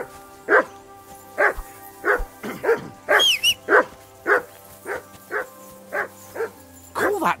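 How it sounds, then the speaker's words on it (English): Barking from a dog in the video game Kingdom Come Deliverance II, about a dozen evenly spaced close barks over a steady hum of background music, with a short whine partway through. "I assume you can hear that damn dog of yours barking."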